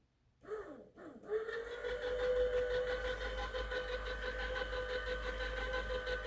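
A scavenged 24V satellite linear actuator with a three-foot stroke, likely driven by a worm gear, starts up and runs at a slow pace, giving a steady, fairly loud motor whine and hum after a couple of brief clicks.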